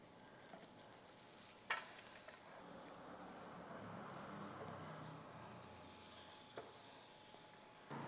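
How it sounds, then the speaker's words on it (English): Bread dough deep frying in hot oil, giving a steady, broad sizzle and bubbling hiss throughout, with a couple of brief sharp clinks or pops and a slight swell in the middle. "Now I am frying this."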